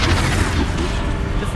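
Bombarda blast spell from the Hogwarts Legacy game: a continuous, dense rumble of booming explosive impact and crashing debris filling the whole clip, loud and steady with no speech over it.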